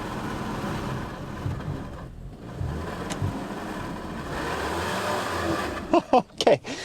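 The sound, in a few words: Mazda CX-30 AWD engine straining in off-road mode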